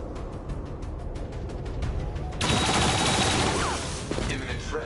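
Turret gunfire in XCOM 2, a loud, dense burst of rapid automatic shots erupting after a stretch of quieter sporadic sounds, with a voice audible.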